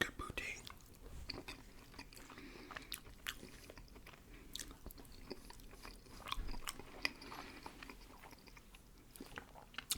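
Poutine and burger being eaten up close in an ASMR style make continuous wet chewing and biting sounds, with soft clicks and crunches all the way through and a voice faintly present.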